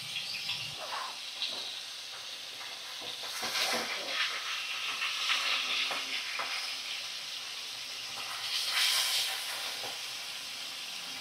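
Bhola fish sizzling steadily in hot oil in a pan, a continuous bright frying hiss with occasional crackles and pops, close and fairly loud with no voices.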